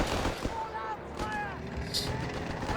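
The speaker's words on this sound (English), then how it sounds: "As the 1st squad here routes in the face of accurate German gun and machine gun fire" Gunfire and machine gun bursts in Company of Heroes 3, a German squad firing on retreating infantry, heard as scattered shots and crackle in a dense battle mix under talk.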